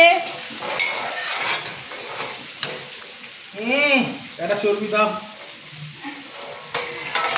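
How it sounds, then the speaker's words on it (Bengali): Mutton being stirred and fried in a pan in a home kitchen gives a steady sizzle with scraping strokes of a spoon, while voices talk briefly in the middle. "এখানে রান্না বান্না চলছে"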